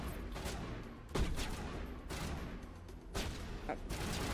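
Bursts of gunfire from the video game Mass Effect crackle in rapid volleys under a constant dense din, with several sharper shots standing out, moderately loud and continuous.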